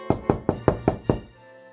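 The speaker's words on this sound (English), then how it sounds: "tapped again at the castle" Six firm, evenly spaced knocks on a castle door, close and resonant, each thud ringing briefly before the next, then fading to quiet.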